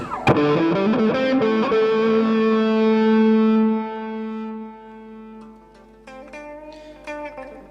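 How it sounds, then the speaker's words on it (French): An electric guitar played through a Line 6 DM4 Distortion Modeler on its classic distortion setting rings out with a sharply struck, sustained distorted chord that slowly decays, followed by quieter scattered picked notes and string noise. "si je reviens par exemple sur la classique distorsion"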